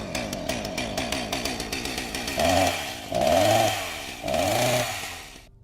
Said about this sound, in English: my worst fear was confirmed when I heard a chainsaw firing up